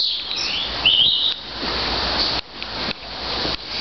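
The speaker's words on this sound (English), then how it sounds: "Spend a few while sitting there and listening to that bird singing." A bird sings inside a conservatory in a city park, its bright chirping phrases coming clearly over a steady background hiss, fairly close and with no talk.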